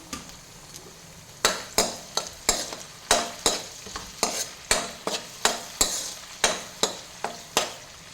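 Onion, garlic, green chilli and ginger being stir-fried for mutton sukka, a spatula scraping and knocking the pan in a steady rhythm of sharp, close strokes over a soft background sizzle.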